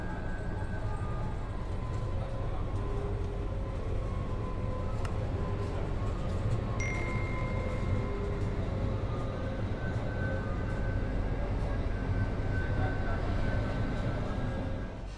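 KA Malabar Executive train running from Bandung to Malang, a steady low rumble of wheels and carriage noise heard from on board with faint rattles, continuous throughout.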